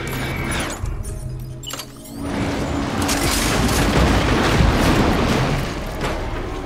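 Weapon fire in the video game Death Stranding: a sharp blast, a brief dip, then a sustained loud roaring burst of noisy, crackling discharge that keeps going to the end.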